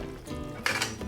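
A spoon stirs seasoning into a pot of black beans and broth, with a quiet scrape followed by a couple of sharper metallic clinks against the pot.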